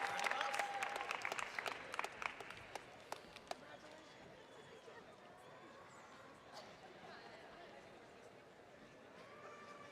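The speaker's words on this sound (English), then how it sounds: "Please join me in a round of applause" A crowd at the 2024 Heinz College of Information Systems and Public Policy hooding and diploma ceremony claps, loud and dense at first, then thins to scattered claps and fades into quiet room noise.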